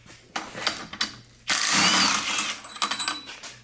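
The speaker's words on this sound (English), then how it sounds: "Next, you'll want to pull your T60. It's Torx size 60. Same thing, impact." An impact wrench removes a T60 Torx bolt from the clutch of a 2024 Polaris, sounding as a loud, buzzing burst of hammering for about a second, close by, framed by sharp clicks and tool handling.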